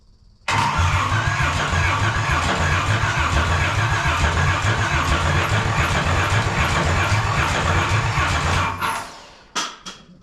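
A Ford 2N tractor fitted with a V6 engine cranks and catches, then runs loud and steady close by for several seconds before cutting off abruptly, followed by a couple of brief knocks and rattles.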